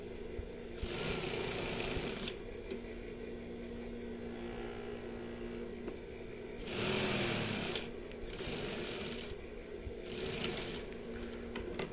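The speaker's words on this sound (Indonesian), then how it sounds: "kita tinggal jahit aja seperti ini" A sewing machine stitches the pocket of a baju koko in bursts of steady motor whirring, with a louder run around the middle and shorter runs after it, separated by quiet pauses and no talk.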